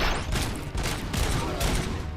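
A grenade blast and a burst of gunfire in the video game Robocop: Rogue City, loud and dense, with a sustained crackling barrage running the whole way through and no talk over it.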